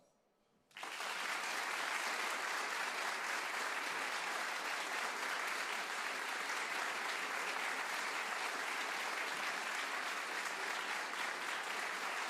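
An audience at a live old-time music radio show bursts into applause after a short silence, a dense, loud, sustained clapping that holds steady to the end.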